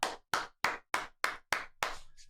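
Seven sharp hand claps land one after another at an even pace, close and crisp, each ringing out briefly before the next, with the last clap trailing into quiet.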